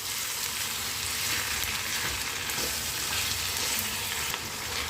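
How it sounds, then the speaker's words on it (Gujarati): Large pieces of red tomato cook in a pan with a dense, even sizzle and crackle, close and continuous, with no voices. "આપણે આ ટામેટા સોફ્ટ થાય ત્યાં સુધી તેને થવા દઈશું."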